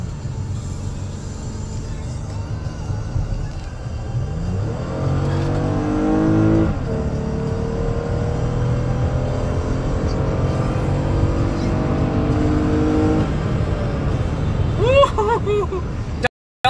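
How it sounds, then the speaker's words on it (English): A minivan's engine revs and accelerates hard. The loud, close engine note climbs in pitch through several rising sweeps, then cuts off abruptly. "This van will get up and go."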